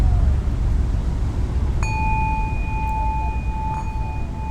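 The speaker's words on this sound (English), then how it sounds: "Or better yet, you can have a singing bowl." A singing bowl is struck partway through and rings with a pure, sustained tone plus a higher overtone, humming steadily over a low rumbling background with a faint chime earlier.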